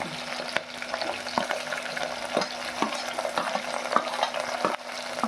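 Onions, green chillies, mustard seeds and cumin fry in hot oil, sizzling steadily, with a spoon scraping and stirring the pan in regular clattering strokes close by.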